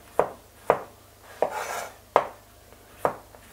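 A kitchen knife cuts half a fennel bulb into thin slices on a cutting board, giving five sharp, evenly spaced chops that ring out clearly on their own, up close and with no speech.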